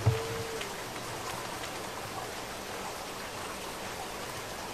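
Shower running in The Sims 2 game, a steady hiss of spraying water like rain on a surface, soft and continuous with a brief click at the start.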